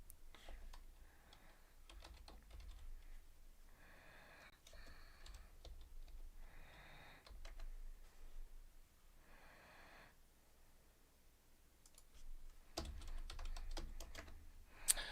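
Rapid, uneven keyboard clicking comes from close by, with bursts of typing, a few pauses and some breathing. No one speaks.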